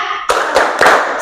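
A classroom of students claps the rhythmic 'tepuk sedekah' ice-breaker together, with three loud, sharp group claps in a quick, even pattern.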